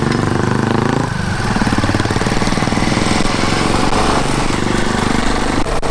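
A motorcycle engine labours up a steep mountain road in first gear, a loud, steady, close drone with a dense rapid pulse and no talk over it.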